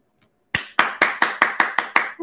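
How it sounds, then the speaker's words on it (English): Eight sharp, evenly spaced hand claps ring out close and loud after a moment of silence, with a brief voice cutting in at the very end. "He's clapping for you."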